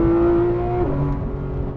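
A 2019 Porsche 911 GT3 RS engine revs hard on a race track, a loud, close, high-pitched wail that drops in pitch just under a second in, as at a gear change, then holds steady, with no talking.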